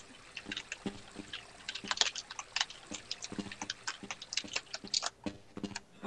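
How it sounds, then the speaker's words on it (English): Keyboard typing in Half-Life: Blue Shift, a steady run of sharp, close key clicks at an uneven pace with no voices. "I hear typing."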